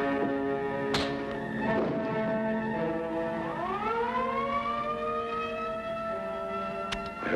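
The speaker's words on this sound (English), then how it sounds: "I heard the siren" A wailing siren holds a steady tone, then glides upward and sustains, loud and fairly near, with no voices.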